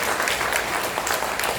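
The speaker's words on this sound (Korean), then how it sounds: "귀한 그 헌물을 해주신 우리 무명 그분께 감사의 박수 드리겠습니다" A church congregation at a harvest thanksgiving Sunday service applauds in thanks for an anonymous donation of chairs, producing a dense, even wash of clapping throughout.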